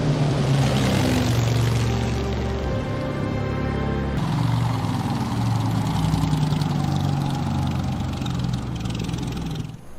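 A Piper L-4 propeller plane drones loudly and steadily, its engine buzz shifting partway through as if passing or changing power, with no voices over it.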